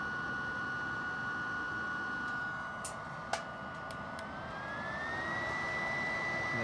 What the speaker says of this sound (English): And that fan here is whirring around to allow this unit to burn there.